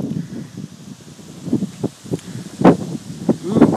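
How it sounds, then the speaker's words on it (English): Gusty wind buffets and rustles in irregular bursts, with louder gusts toward the end, close and fairly steady throughout. "Ooh, windy."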